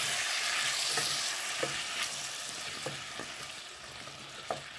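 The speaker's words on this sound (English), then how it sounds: "Mix it." Tamarind chutney with tomato is stirred in a pan over a steady loud frying hiss, with a handful of light spoon taps and scrapes spaced through it and no talking.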